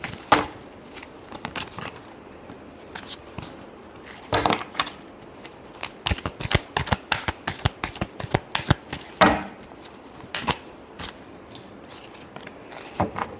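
Tarot cards are shuffled by hand in repeated quick bursts of papery flicks and riffles, close and crisp, with short pauses between runs and no talking.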